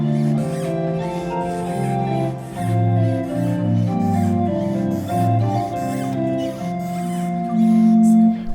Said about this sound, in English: So we got a small hand-pumped or feet-pumped organ actually, which is very squeaky but a lot of fun.